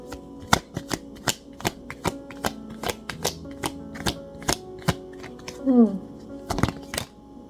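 Tarot cards are handled and shuffled in a series of sharp, evenly spaced snaps and riffles at close range, with a brief soft rustle near the end.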